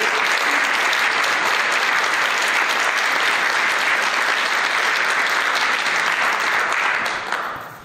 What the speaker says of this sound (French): une bonne main d'applaudissements pour toute l'équipe